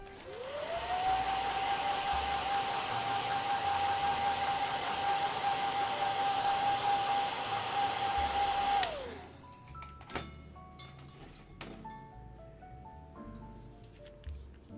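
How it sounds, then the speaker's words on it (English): A hair dryer runs steadily on freshly painted miniatures, a loud, continuous whining blow that cuts off abruptly after about nine seconds. Faint clicks and handling noises follow. "I feel like I need to use the hairdryer because I am not known for my patience"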